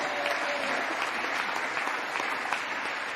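Steady applause fills a press conference room, a dense, even patter of many hands clapping without pause for the whole stretch.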